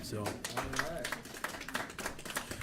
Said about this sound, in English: you can clap for Stephanie though